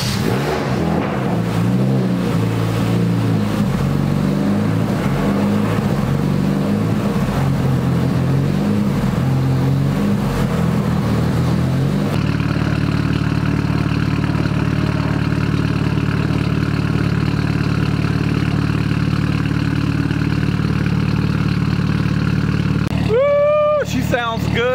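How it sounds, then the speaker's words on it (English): Chevy Cruze 1.8 turbo engine fitted with a 3-inch stainless turbo-back exhaust, first revving and rumbling, then settling into a steady, deep idle, close and loud throughout, with a brief squeal near the end. "The engine is sounding nice and healthy."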